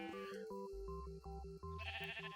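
Sheep in the video game Minecraft bleat close and clear in a couple of quick calls over background game music.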